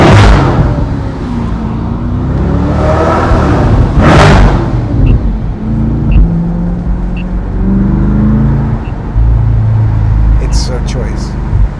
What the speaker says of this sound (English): I'm going to do another little rev or two.